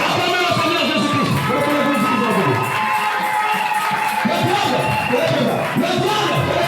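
Church congregation acclaiming the Lord during a service, a loud sustained roar of cheering and shouting voices filling the room, dense and continuous.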